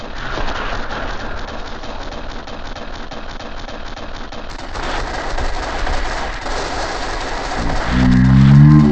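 Rapid automatic gunfire in the Point Blank shooter game, a dense continuous rattle of shots lasting several seconds, loud and close, with a brief change in tone near the end and no talk over it.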